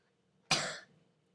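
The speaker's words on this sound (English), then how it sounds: "Just trying to clear my throat." A person gives a single short, sharp throat clear in a quiet room, close and abrupt, fading within a fraction of a second, with no talking around it.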